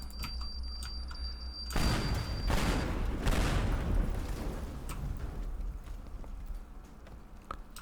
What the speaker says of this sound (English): it's worth it just to see the explosions in slow motion